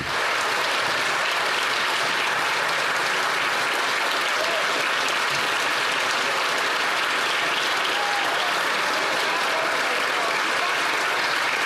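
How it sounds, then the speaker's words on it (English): Sustained applause from a large room full of people clapping during Canadian House of Commons Question Period, a dense, even roar with no pauses. "All the Liberals getting up and clapping."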